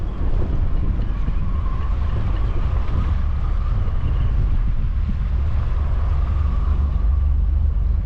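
A boat motor runs steadily on a tidal river, a continuous low drone blended with strong wind buffeting the microphone throughout.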